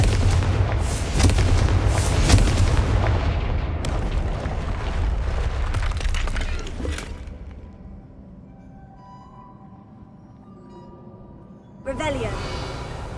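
Confringo blasting spells in Hogwarts Legacy set off loud, rumbling explosive bursts that roar continuously for several seconds, then fall away to a quieter lull before another sharp blast near the end.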